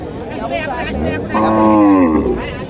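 A cow gives a long, loud moo close by at a cattle market in Naogaon, Bangladesh, over a steady murmur of background noise and distant voices.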